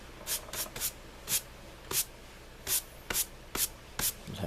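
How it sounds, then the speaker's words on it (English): A dusting brush sweeps over a pencil drawing of clouds in about ten short, crisp swishes, spaced unevenly and heard close up against a quiet room. "I go in with the magical dusting brush."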